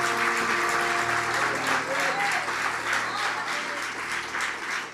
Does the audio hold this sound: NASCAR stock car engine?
no